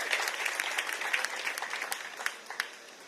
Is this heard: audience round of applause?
yes